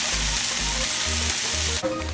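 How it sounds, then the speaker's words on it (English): Chicken sizzles and crackles loudly in a hot frying pan, a dense continuous frying noise with a low rhythmic thumping underneath, close and without talk. "while the chicken's cooking"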